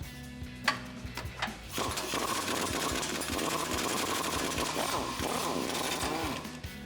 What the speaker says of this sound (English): So we're going to be using a 22mm socket and an impact.